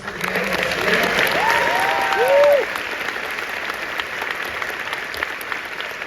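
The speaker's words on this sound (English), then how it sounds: "Now that we've seen the film, can we create a round of applause for the" An audience applauds after a film screening, steady clapping from many people with a few whoops and cheers rising over it, then easing to a softer sustained round.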